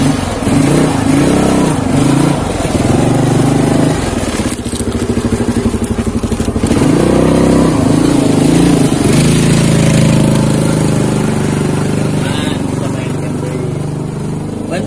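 A motorcycle engine runs and revs close by, rising and falling in pitch with a rough, steady rumble, while people talk over it.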